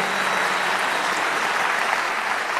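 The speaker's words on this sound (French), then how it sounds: "On peut l'applaudir chaleureusement" Audience at a Mirabelle Queen beauty pageant applauding a finalist, dense, loud, sustained clapping that stays even throughout.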